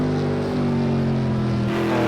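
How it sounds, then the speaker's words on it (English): A Mercedes Group C race car in Project Cars 2 on the Brno circuit drones with a deep-throated, steady engine roar, loud and continuous with a slight pitch shift near the end. "Much deeper throated engine in this Mercedes."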